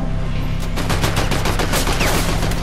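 Rapid automatic gunfire in a Fortnite battle royale match, with loud, close shots rattling off in a quick, steady stream against a constant low hum, no voices.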